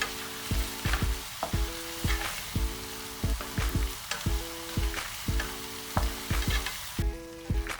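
Fried chicken cubes being stirred into red pasta sauce in a pan, a continuous bubbling sizzle with rhythmic spoon strokes and knocks against the pan repeating about every half second, no voices.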